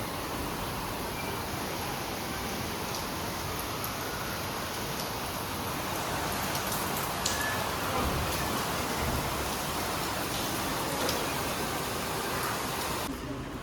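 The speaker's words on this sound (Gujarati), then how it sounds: "વરસાદ ચાલુ થઈ ગયો" Steady broadband hiss of the season's first monsoon rain pouring down outside a home gallery, continuous and fairly even throughout with a slight swell midway.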